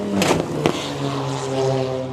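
A rally car on a dirt stage at the Overmountain Rally in Tennessee, engine droning and revving with a sharp thump around a jump, tonal engine note holding steady close by.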